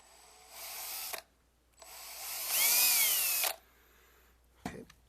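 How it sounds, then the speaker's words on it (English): A power drill bores a small hole while screws are fitted into a Sovol SV08 3D printer frame: two bursts of whirring, the second longer and rising in pitch, then a brief final blip, close and otherwise quiet. "Now I'll drill another little hole."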